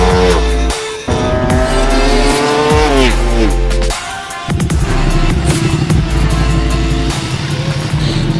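Exotic cars race laps on a track at the Houston Exotic Auto Festival 2021, engines revving hard with rising and falling pitch sweeps as gears shift, tires squealing between loud bursts of acceleration.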